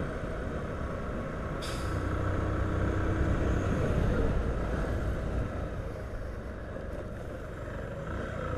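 A truck rumbling past on a road near Dom Pedro, Maranhão, a broad steady roar that swells and fades, with a sharp hiss of air brakes released briefly early on.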